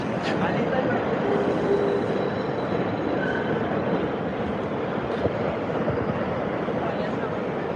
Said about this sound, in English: This train runs faster than the R train.